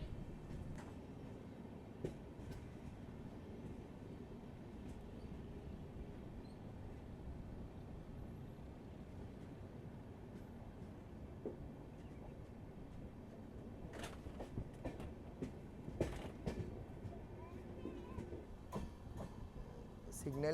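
A passenger train from Mysuru to Varanasi rolls onto the down main line, a steady low rumble of wheels and carriage noise running throughout, with brief clanks and rattles near the end.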